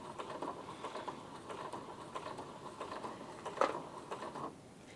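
A sewing machine stitches through a thick stack of many fabric layers, giving a steady, rapid mechanical whirring and ticking that runs continuously, with one sharper clack near the end before it quiets.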